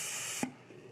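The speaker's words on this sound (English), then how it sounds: "all we're going to simply do is just spray this foam" A can of orange fire-code spray foam hisses loudly into a wall penetration, then cuts off abruptly partway through, leaving a quiet room.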